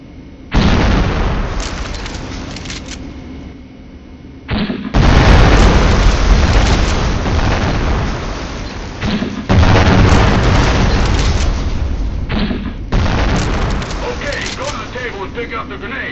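Heavy launched rounds hit range targets in the military shooter Conflict: Desert Storm II – Back to Baghdad. Several loud, close booms come one after another with long rumbling tails, separated by short quiet gaps, with a voice speaking between them.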